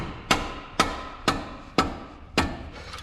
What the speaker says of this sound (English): use my mallet, kind of the mallet method, to pop it loose